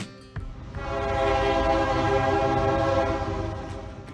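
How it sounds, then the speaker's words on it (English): An Amtrak Wolverine passenger train, which runs between Chicago and Detroit, sounds its horn in a loud sustained blast over the rumble of the passing train, close by and building after a brief click. "This Amtrak train runs between Chicago and Detroit"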